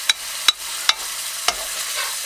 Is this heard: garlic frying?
yes